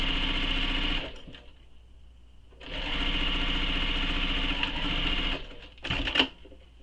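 Sewing machine stitching the bottom edge of a zipper pocket on a handmade wristlet, a loud steady motor whir that pauses briefly, resumes for several seconds, then ends in a short final burst, close and alone.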